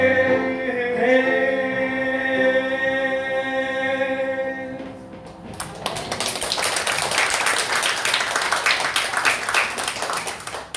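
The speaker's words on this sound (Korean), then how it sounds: "무슨 박수입니까? 간다고 박수입니까?" Church congregation breaks into applause after singing at a Sunday morning service in a Korean church, a dense, loud wash of many hands clapping that rises abruptly and continues steadily, following sustained sung or organ tones.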